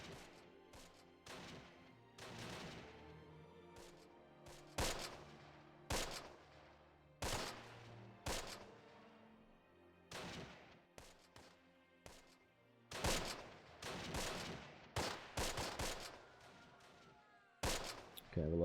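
Repeated bursts of rifle and machine-gun fire from troops in the Close Combat war game, sharp cracks and rattling volleys recurring irregularly throughout, some close and loud, others softer and more distant.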